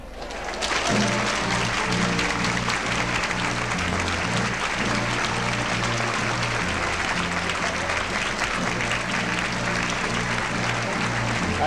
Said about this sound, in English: Even the Democrats are clapping.